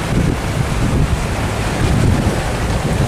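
Large trawler boat pushing through strong wind and big waves at sea, a loud, constant roar of wind buffeting the microphone over crashing surf, with no voices.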